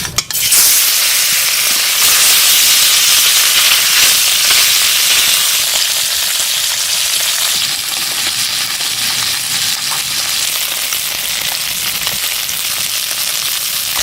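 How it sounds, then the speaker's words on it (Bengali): Latha fish sizzling in hot oil in a wok, a loud, steady crackling hiss that holds throughout without talk. "গরম হয়ে গেছে, মাছগুলো তেলের মধ্যে দিয়ে দিচ্ছি।"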